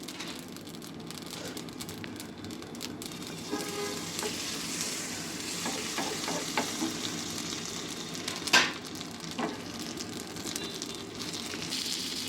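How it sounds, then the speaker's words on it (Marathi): Paneer bhurji roasts in a pan with a steady close sizzle and frying crackle, broken by occasional stirring scrapes and one sharper clink, with no talking. "हे असं मस्तपैकी आपण भाजून घ्यायचं आहे"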